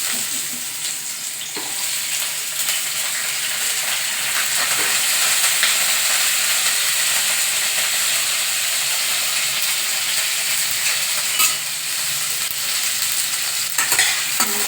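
Onions frying in hot oil for a mushroom curry, a dense, continuous close sizzle holding steady for the whole stretch, with occasional light clinks from stirring and no voices.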